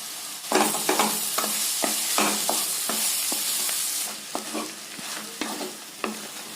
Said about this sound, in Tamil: சேர்த்திட்டு நல்லா இந்த வெஜிடபிளோட வதக்கி விடலாங்க.